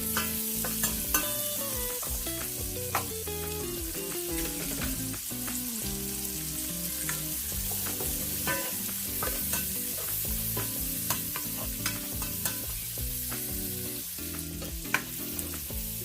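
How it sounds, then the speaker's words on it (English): Chopped onion fries with garlic in a hot pan, giving a steady, close sizzle broken by frequent scraping stirs, with no talking. "Smelling the garlic, let's put the onion."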